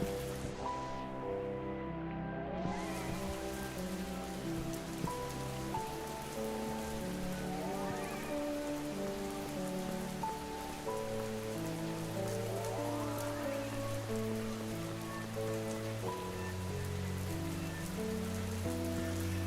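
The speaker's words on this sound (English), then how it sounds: "it's raining." Steady rainfall patters continuously over a low, sustained tonal hum, with no voices, a constant wash of drops throughout.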